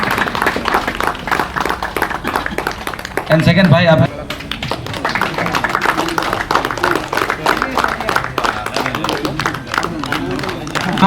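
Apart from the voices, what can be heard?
audience clapping at a Wancho tribal festival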